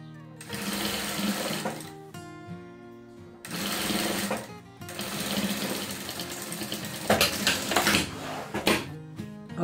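A sewing machine stitches a seam on a patchwork scrap rug, its motor whirring loudly and steadily in three long runs with short breaks, close by and without talk.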